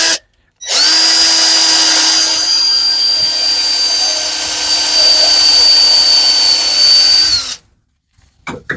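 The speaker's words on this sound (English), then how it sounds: "I want to drill a hole here to hold that in place" A loud power drill whirs steadily for about seven seconds, boring into wood at an even pitch, then stops abruptly, leaving near silence.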